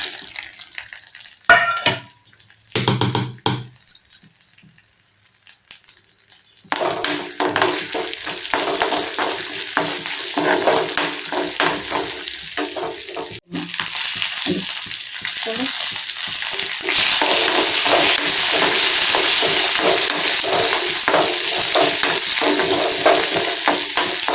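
Garlic, urad dal, dried red chillies, cumin, fenugreek and curry leaves hit hot oil for a chutney tempering; after a few quiet clinks, a loud, steady sizzle bursts in and grows fiercer, with occasional spoon scrapes.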